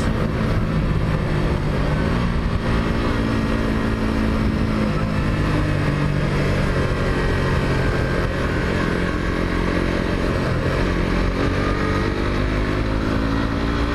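A 150 cc sport motorcycle accelerates on a ride, its engine droning loud and continuous with rising and falling pitch as it pulls through the gears, and wind rush underneath.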